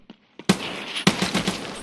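Gunfire in Escape from Tarkov: a few faint distant pops, then two loud close shots each followed by a rapid burst of rounds and echoing tail, with no talking.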